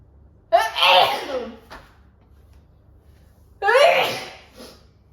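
A single loud, sharp sneeze with a breathy build-up, followed a few seconds later by a second forceful sneeze, close to the listener.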